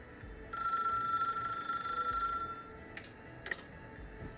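A telephone rings in a short video playing back, a steady electronic ring lasting about two seconds at moderate volume, followed by a few faint clicks and knocks.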